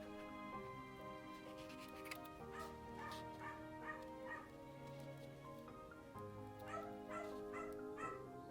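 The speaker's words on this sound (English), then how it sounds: "with the dog barking in the background" A dog barks and yips repeatedly in the background of a quiet room during paper crafting, faint and somewhat distant, the barks coming in irregular bursts with some whimpering, no voices.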